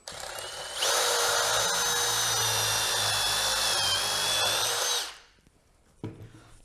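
A power drill with the bit run down a pocket-hole drill guide into wood, a steady high whine lasting about four seconds before winding down, followed by a short clunk.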